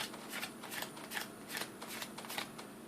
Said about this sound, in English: So just give me a moment while I deal through the cards and I'll see if I get any kind of impression.